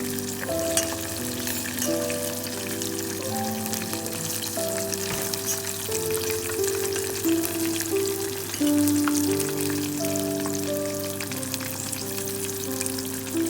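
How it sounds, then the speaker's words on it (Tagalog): Oysters deep frying in hot oil give a continuous, loud, crackling sizzle close up, with steady bubbling and no voices over it. "Ayan na po yung pinirito kong talaba. Nag-brown na."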